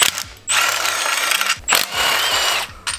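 A power tool whirs and ratchets in repeated bursts while removing bolts near the oil pan of a BMW E46, loud and close, each run lasting about a second with brief pauses between.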